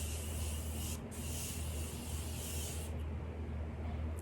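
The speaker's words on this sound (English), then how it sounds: "It's the Morphe Continuous Setting Spray." A fine mist of Morphe Continuous Setting Spray hisses steadily and close, with a few short breaks in the spray, over a constant low hum.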